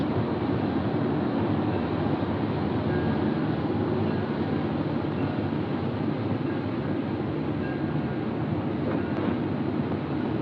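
A steady, loud rumbling roar of a fast-moving New Haven Railroad electric train under overhead high-tension lines continues throughout, with no pauses.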